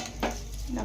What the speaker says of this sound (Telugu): ఒకసారి ఇలా కలుపుకోవాలి.